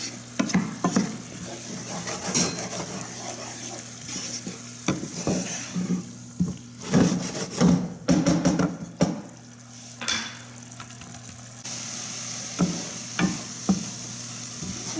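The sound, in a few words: food simmering with white wine until liquid cooks off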